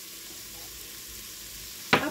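Potato curry frying in a single pot hisses with a soft, even sizzle as it is stirred, ending in a sudden close clatter of the spoon against the pot.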